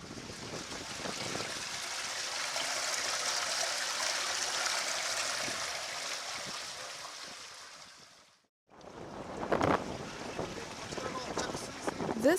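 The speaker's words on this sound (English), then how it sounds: "The raw water is transmitted through the pipe and then flows in this receiving well" Raw water pouring from a pipe into a receiving well at a village waterworks, a steady rushing flow that drops out briefly near the end before resuming with splashy bursts.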